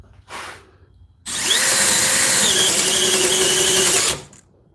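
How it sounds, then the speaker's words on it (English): A Milwaukee compact drill set to speed 1 in drill mode whirs in a short blip, then runs steadily for about three seconds with a wavering motor whine before stopping. "So if we pop this in speed 1, make sure it's still in drill, and we go"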